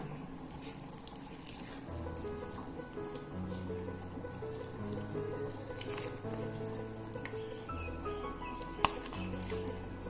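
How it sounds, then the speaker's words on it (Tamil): Cooked dal is stirred into a simmering vegetable and coconut milk curry for Tirunelveli sodhi kulambu, producing soft, faint patters, gentle scraping and light sizzling from the pot. "இந்த பருப்பை இது கூட சேர்த்து நல்லா மிக்ஸ் பண்ணி விட்டுடலாம்."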